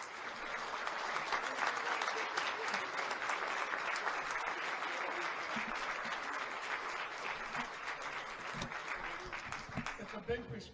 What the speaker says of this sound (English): Everybody stand up and applaud each other